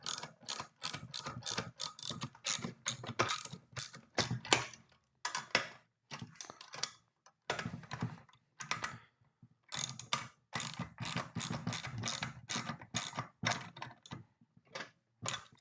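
Clamping on a Riley Hopkins 150 screen printing press with 1/2 inch fittings: rapid ratcheting clicks in repeated bursts with short pauses, close and fairly loud, and no talking.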